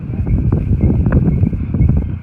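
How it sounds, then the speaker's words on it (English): Strong wind buffets an outdoor microphone at a fishing spot, a loud, low, rumbling roar with gusty fluctuations throughout. "It's just really windy"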